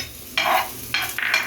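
A spoon stirs chili flakes in a pan over a low flame, giving three short scraping strokes close by, with no talk.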